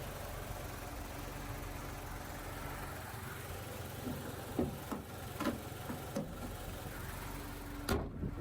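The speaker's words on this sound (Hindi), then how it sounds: "तो ये था 1000 सीसी पेट्रोल इंजन" Nissan Magnite 1000cc petrol engine idling steadily at close range, a low continuous hum with a few soft clicks and knocks on top.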